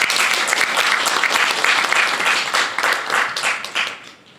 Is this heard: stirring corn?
no